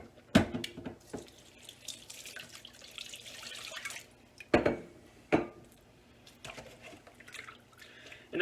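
Cold tap water runs in bursts over homemade cultured butter in a kitchen sink, with soft splashing and trickling between several sharp gushes as the flow is turned on and off, close and fairly quiet.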